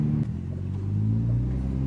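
Toyota Supra fitted with a Tomei exhaust idling while warming up, a steady low rumbling drone with a slight rise in pitch partway through, close and unbroken.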